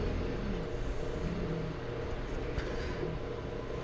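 A steady, heavy engine rumble from a forklift pulling a tractor out of mud, droning continuously at close range with slight rises in effort.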